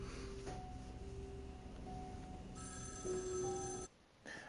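A telephone rings in the interactive movie Erica, a faint tonal ring pattern with sustained electronic tones over low background music, ending in a brief quiet gap before another short tone.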